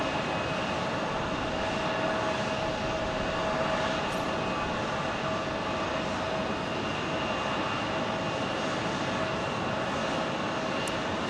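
Jet airliner on the Phoenix to Asheville flight at Phoenix Sky Harbor, giving a sustained, even engine rumble and hiss that holds steady throughout.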